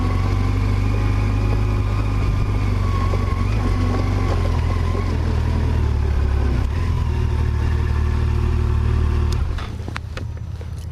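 A Yamaha FJR motorcycle engine idles steadily and close by while being parked, a constant low rumble that eases off slightly near the end.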